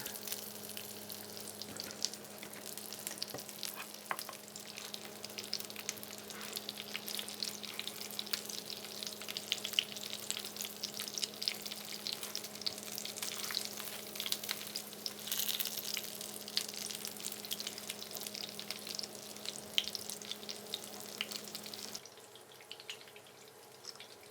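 Homemade rissoles fry in oil in a pan with a steady, busy sizzle and crackle lasting throughout, close and fairly loud, with a low kitchen hum beneath and the frying dropping back slightly near the end.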